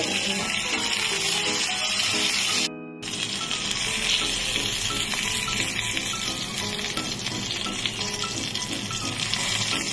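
Eggplant pieces frying in hot oil in a wok: a steady, dense sizzle runs throughout with light clinks and stirring, briefly cutting out for a moment before resuming at full strength.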